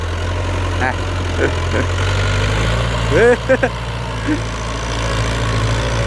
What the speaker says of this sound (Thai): เสียงฟอร์ดเนี่ย